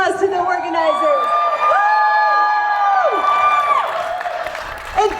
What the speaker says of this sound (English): Can we give a big round of applause to the organizers?